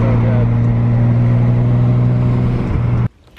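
A 1979 Ford F100 pickup with a swapped LS engine runs with a loud, steady, droning rumble for about three seconds, then cuts off abruptly, leaving near silence.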